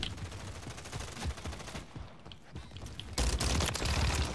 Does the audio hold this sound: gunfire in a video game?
yes